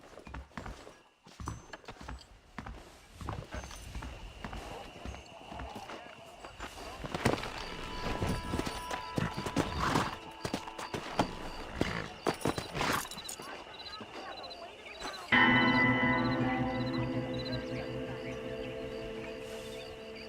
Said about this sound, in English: The horse is now your trusty steed.